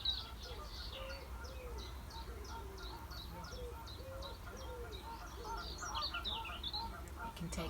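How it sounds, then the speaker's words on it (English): Outdoor birdsong at Seaton Wetlands in April, with repeated chirps and calls and honking waterfowl over a low steady background rumble, faint and somewhat distant. "we have a lot of noise going on with all the bird song"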